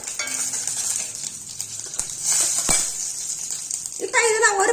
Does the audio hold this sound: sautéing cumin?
yes